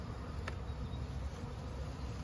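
Honeybees bearding on the outside of a hive box on a farm make a soft, continuous buzz, faint and steady under broad outdoor background noise, with one brief closer pass.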